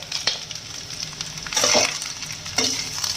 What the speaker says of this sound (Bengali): এবার নাড়িয়ে নিচ্ছি ভালো করে